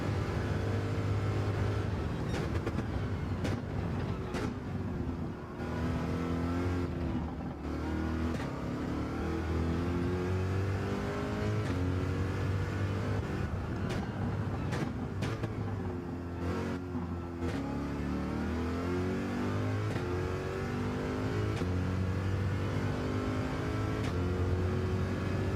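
Race cars in a racing video game engine note rising and falling through gear changes, a steady loud high-revving drone running continuously throughout with occasional shifts in pitch.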